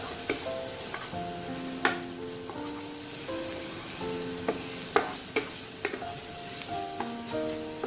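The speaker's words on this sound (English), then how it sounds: "So just keep stirring until it turns brown, but make sure not to burn it." Ginger frying in a pan for a chicken stew, with steady sizzling throughout and repeated stirring scrapes and clinks of a utensil against the pan, close and moderate in level with no talking.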